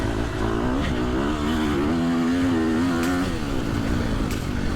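A KTM FC 350 dirt bike engine revs steadily as the rider rolls on throttle through a corner, loud and close, with a rising and falling mid-pitched drone that never drops away.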